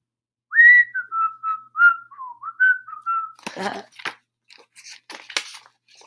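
A person whistles a short tune of several clear notes up close, followed by scattered papery crinkling and rustling.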